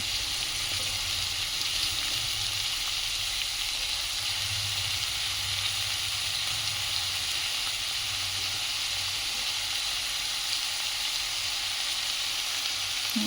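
Potatoes sizzle in a hot pan of mixed vegetables for a festival vegetable dish, a loud, steady, dense frying hiss that goes on unbroken with faint stirring beneath and no talk.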